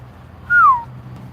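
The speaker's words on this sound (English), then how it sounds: "Getting birds overhead." Bird call overhead outdoors: a single clear rising-then-falling whistle-like note, fairly close, over a low steady background hum, with no talking.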